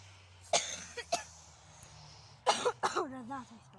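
A person coughs sharply several times, a couple of isolated coughs then a quick cluster, followed by a short voiced throat sound.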